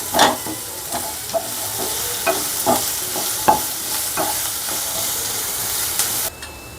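Chopped onions sautéing in a pan with salted ginger-garlic paste, a steady sizzling hiss with repeated scraping stirs of a spoon at an uneven rhythm, close and fairly loud.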